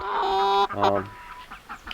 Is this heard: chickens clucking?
yes